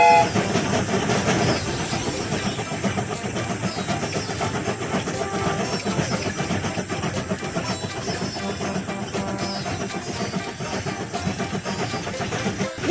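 A cartoon train sets off and rolls along its rails, a dense, steady rumble of wheels and engine with a faint rhythmic clatter running without pause for the whole stretch, no voices over it.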